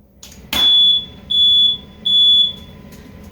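Cooking smoke from pan-seared tuna triggers a kitchen smoke alarm, which sounds three shrill, evenly spaced high-pitched beeps, loud and close.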